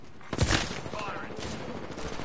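Gunfire in Apex Legends breaks out as a sharp burst of shots near the start, followed by quieter rattling, with a voice speaking underneath.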